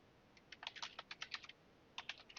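Keystrokes on a computer keyboard as a folder name is typed in Windows File Explorer: two quick bursts of close, crisp clicks with a short pause between, quiet and alone.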